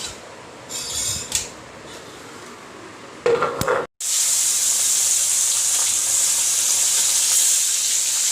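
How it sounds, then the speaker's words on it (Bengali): Fish frying in hot oil for a home-cooked meal, a steady bright sizzle running continuously after some brief scraping and handling sounds, close and fairly loud with no voices. "মাছগুলি ভেজে নিচ্ছে"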